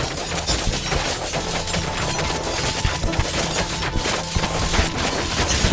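Sanctuary towers in the strategy game Thronefall fire continuously, a dense layered volley of rapid shots over busy game noise, steady and loud throughout.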